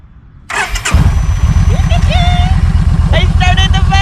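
A motorcycle engine starts after a short cranking burst, then settles into a loud, close, steady idle with a rapid even pulse, while people talk over it.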